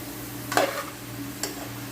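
Fish and aubergine get stirred into masala in a pan, making two brief scraping strokes a moment apart over a low, steady background hum.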